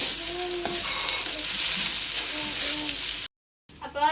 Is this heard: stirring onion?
yes